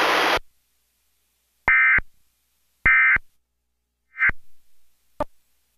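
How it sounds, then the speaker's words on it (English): Emergency Alert System test ending tones: a burst of loud broadband noise, then three short steady attention beeps spaced about a second apart, the last one fading, followed by a brief click. No voice. "The following tones will conclude this test."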